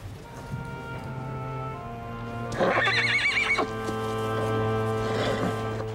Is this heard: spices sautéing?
no